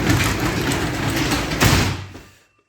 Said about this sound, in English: I am closing the door here